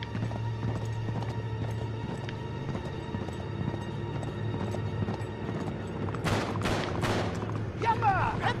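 A horse in the video game Uncharted gallops with rhythmic hoof clip-clops under a low steady hum, and sharp bursts of gunfire break in near the end.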